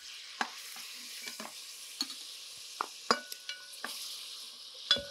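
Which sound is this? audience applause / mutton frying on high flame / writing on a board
mutton frying on high flame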